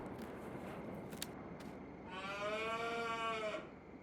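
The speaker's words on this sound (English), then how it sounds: "Are you okay, cow? You're making weird noises." A cow in Farming Simulator 19 lets out a long, drawn-out moo that swells up and fades after a few faint ticks and clicks over steady ambient game noise.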